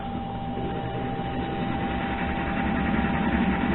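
A lapping machine runs slowly at 143 RPM, a steady low mechanical drone and hum with a constant whine, close and unchanging throughout.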